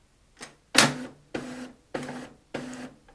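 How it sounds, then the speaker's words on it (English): Canon imageCLASS LBP122dw laser printer powering on, giving four close, evenly spaced mechanical whirring bursts, each about half a second long with short silences between, following a faint initial click. "it's time to turn on the printer simply by pressing the power button once"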